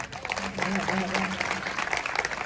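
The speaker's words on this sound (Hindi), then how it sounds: "ताली बजाना चाहिए, बजाइए।" An audience claps at a Hindi heroic-verse poetry gathering (kavi sammelan), a short burst of scattered applause with a sustained voice ringing over it.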